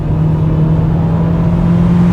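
A Dacia Duster TCe 150 engine with dual-clutch automatic roars steadily and loudly from inside the cabin on kick-down, a sustained drone with a low hum as the vehicle accelerates.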